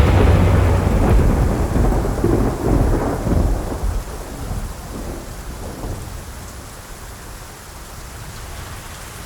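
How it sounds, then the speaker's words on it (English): Thunderstorm over a home garden: heavy rain hissing on surfaces with loud rumbling thunder early that fades into steady, softer rainfall, no voices. "The storm came in."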